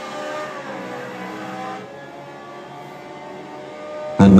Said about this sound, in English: And now here comes the Ferrari of Hurt Maggot, out of the pits.